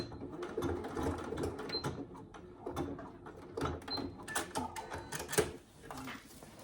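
A sewing machine stitches a wash bag, running continuously close by with a dense rattling rhythm, then a short reverse back stitch, with sharp clicks and thumps of handling throughout.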